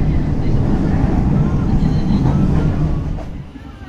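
The Probowangi passenger train runs along the rails from Surabaya toward Jember and Banyuwangi, a loud continuous low rumble heard from onboard, with faint rhythmic wheel noise that eases slightly toward the end.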